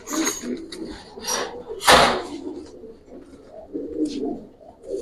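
Giribaz pigeons at a loft give soft low coos amid rustling and a sharp knock or flap, near and moderately loud, with indistinct voices nearby.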